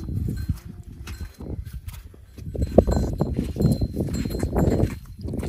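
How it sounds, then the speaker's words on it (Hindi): Water buffalo with their calves moving across Thar Desert ground after rain, a close, irregular run of hoof thuds and scuffs that grows busier and louder midway. "ये भैंस है"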